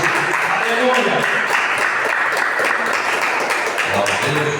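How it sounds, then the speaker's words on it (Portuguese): Congregational applause at an evangelical church service welcoming the pastor, a steady dense wash of clapping held throughout at moderate level, with voices mixed in. "Vamos receber o nosso pastor com as palmas para o Senhor Jesus."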